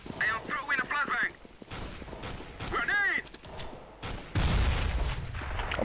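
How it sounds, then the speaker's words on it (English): A flashbang grenade thrown in the CS:GO video game goes off as a loud, sharp blast, followed by a sustained harsh wash of noise. Voices talk over gunfire-like bursts before it. "I am throwing a flashbang!"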